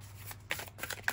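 An Angels and Ancestors oracle card deck is shuffled in short bursts of papery riffling and soft flicks, close and fairly quiet, with a few sharper card slaps near the end and no talking.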